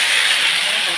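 Vegetables hit hot oil seasoned with panch phoron and dried red chillies in a pan, giving a loud, steady sizzling hiss throughout.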